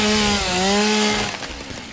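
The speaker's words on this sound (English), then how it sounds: "What I'll need to do is use this chainsaw to get the" Chainsaw cutting a tree in the video game Satisfactory, a loud buzzing whine with shifting pitch that runs steadily for over a second and then drops off, with no talking.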